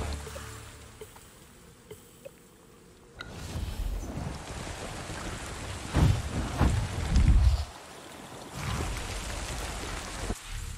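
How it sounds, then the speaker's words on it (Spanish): Rain falls in the video game Avatar: Frontiers of Pandora, a quiet hiss that swells into a heavy, rumbling downpour with gusty surges before easing back. "porque está lloviendo?"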